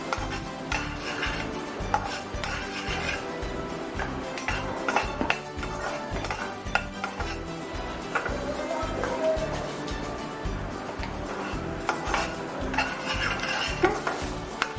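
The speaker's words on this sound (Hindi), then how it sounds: "हमारा बेसन को इसमें भूनेंगे।" Gram flour (besan) being roasted in a pan for khasta moong dal kachori filling, with a steady run of spoon scrapes and metallic clinks against the pan, close and fairly continuous without talk.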